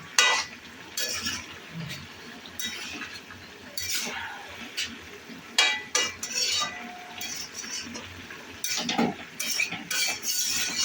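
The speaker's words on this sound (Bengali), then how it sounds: "তো আবারও নাড়াচাড়া করে ঢেকে দেব।" A spoon works through a mixed vegetable curry with cumin and coriander powder in a pot, giving repeated scraping clinks and clatter against the metal at an uneven pace, close and fairly loud, with no talking over it.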